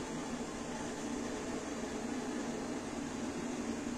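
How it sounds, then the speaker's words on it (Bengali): Water heating in a cooking pot for a semolina and potato breakfast gives off a steady close hiss just short of boiling, even and unbroken throughout with no voices. "জলটা কিন্তু আমার গরম হয়ে গেছে, শাঁসা করে আওয়াজ ফুটবো ফুটবো হয়ে গেছে।"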